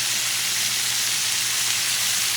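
Flank steak sears in hot oil with vinegar in a skillet, giving a loud, steady, close sizzle that hisses without a break and has no voices over it.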